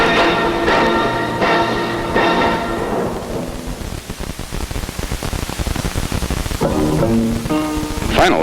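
A storm at sea with heavy rain gives a rushing, crackling roar of rain and wind, framed by swelling orchestral music at the start and again near the end.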